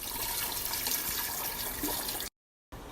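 Water pours steadily into a pot of chicken soup, a continuous splashing rush that cuts off abruptly near the end before a brief resumption.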